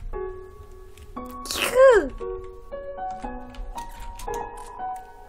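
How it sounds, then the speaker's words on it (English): A single sharp sneeze bursts out mid-clip, close and fairly loud, over tinkly video game music from Undertale. "I have to sneeze."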